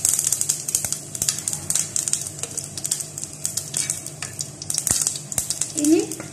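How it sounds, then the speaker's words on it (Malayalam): Mustard seeds pop and crackle in hot coconut oil while tempering puli inji, a Kerala ginger-tamarind curry; close, sharp snaps scatter irregularly over a steady hiss of frying. "അപ്പോൾ വെളിച്ചെണ്ണ ചൂടായിട്ട് വരുന്നുണ്ട്, നമുക്ക് കടുക് ഇട്ട് കൊടുക്കാം."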